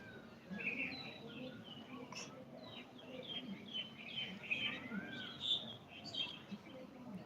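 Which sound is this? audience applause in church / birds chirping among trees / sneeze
birds chirping among trees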